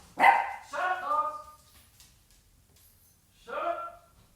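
A dog barks in two harmonic bursts, a rapid run of barks followed by a pause and then a shorter single outburst, fairly close and loud with no talking over it.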